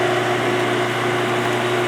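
A static phase converter runs in a workshop with a loud, steady electrical hum and buzz, constant and unchanging throughout, with no voices.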